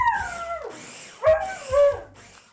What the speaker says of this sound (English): my dog hates the blender